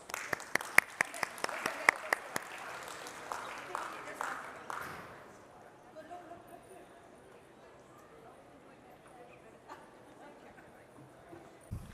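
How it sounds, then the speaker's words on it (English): Audience applause at a leadership conference security panel: a few seconds of dense clapping with sharp individual claps, fading out after about five seconds into quiet room tone. "Please join me in giving them a huge round of applause"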